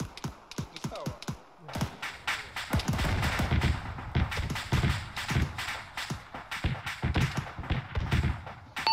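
Rapid bursts of video game gunfire in ArmA 3, sharp repeated cracks and thuds in dense clusters, with impacts as a Shilka anti-aircraft vehicle is hit and destroyed, loud and close.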